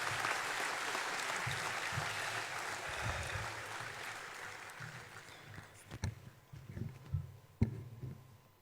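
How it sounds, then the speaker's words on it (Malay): A hall crowd at an UMNO gathering in Dewan Merdeka applauds the president's wife and children. Broad, sustained clapping gradually fades over several seconds into scattered knocks and room noise. "tepukan untuk mereka"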